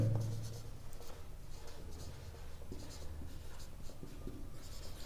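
A pen scratches steadily on paper as a maths solution is written out by hand, a close, quiet run of strokes and small taps that continues throughout.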